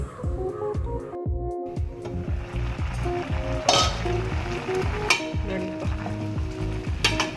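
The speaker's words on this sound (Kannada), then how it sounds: "ಒಂದು 10 ನಿಮಿಷ ಬೇಯಲಿ" Pineapple menaskaayi, an Udupi-style curry with red chillies, simmers and sizzles steadily in a pan, with occasional stirring clicks and the scrape of a utensil against the metal.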